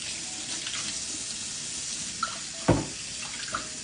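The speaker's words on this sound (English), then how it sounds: "Next, you're going to pre-rinse your dishes." A kitchen sink tap runs steadily while dishes are pre-rinsed beneath it, a soft continuous water hiss with a few brief clinks and one sharper knock of crockery near the basin.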